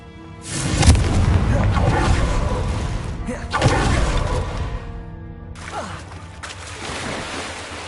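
Confringo blasting spell from Hogwarts Legacy, a loud booming explosion followed by rumbling crashes and a second burst, with game sounds continuing in the background.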